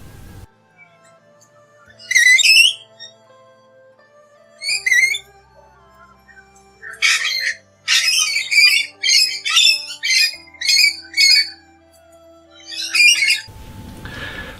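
Several birds in Sydney, Australia squawk and whistle in short bursts of chirping calls, spaced apart and then clustering into a busy run of repeated phrases, fairly close and clear over a quiet background.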